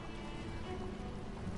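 Rain spell from the video game Divinity: Original Sin 2, a steady, soft hiss of rain pattering on a surface, quiet and continuous with no voices.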